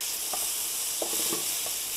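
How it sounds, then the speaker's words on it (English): Wagyu beef sizzles in a very hot, oil-free pan, a steady broadband hiss with a few soft clinks and stirring scrapes layered on top, close and continuous. "Hear that sizzle? I don't even need any oil."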